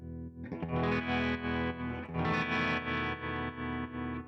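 A sustained electric guitar chord shimmers through a Universal Audio UAFX amplifier pedal's modulation effect, its volume swelling and dipping in a steady rhythmic wobble, loud and close.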